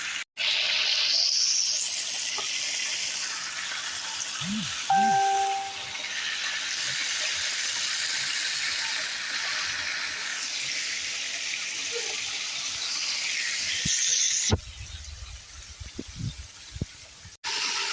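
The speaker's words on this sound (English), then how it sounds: "So yeah, now I'm frying my chicken wings." Chicken wings dipped in flour frying in hot oil, a steady loud sizzling hiss that runs almost unbroken, with a few faint knocks and a brief break near the end.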